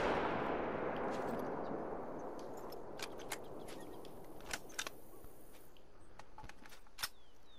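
A 300 magnum rifle shot fired at bison in a hunting game, one loud booming report at the start that rolls away into a long fading echo, followed by faint scattered ticks and distant pops.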